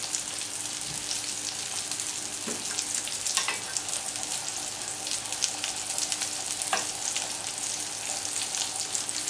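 A sweet wine sauce with shallots reducing in a pan, a steady bubbling, hissing simmer with occasional small pops and a faint clink, continuing evenly without speech.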